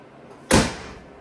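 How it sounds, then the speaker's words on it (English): A tube door on a Ford Bronco is swung shut against its slam latch, giving one sharp, loud metallic slam that rings out briefly before fading, alone and close by. "It's a slam latch, so click it, slam it."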